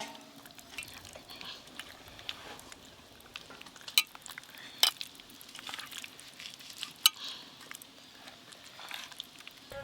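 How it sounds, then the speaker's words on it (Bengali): Hands rubbing spice paste with salt and mustard oil onto pabda fish, a soft, wet, squelching patter with a few sharper clicks, quiet and close, with no talking. "মাছগুলো ধরে ধরে ভালো করে মশলা মাখাবো"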